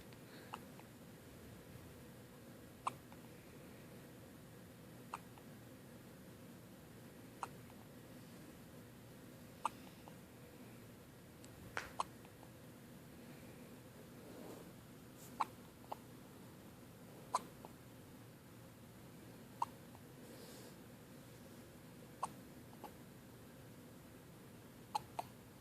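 A newborn baby hiccups in a quiet room at home, small soft hiccups recurring every couple of seconds, faint and close over low background hiss.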